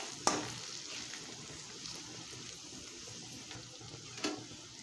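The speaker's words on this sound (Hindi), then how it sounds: "तो इसमें अभी मैं डालूँगा वो कटा हुआ टोमेटो। अभी इसको फ्राई कीजिए 5 मिनट तक।" Chopped tomato frying in a pan gives a quiet, steady sizzle, with two brief sharper clinks of a utensil against the pan.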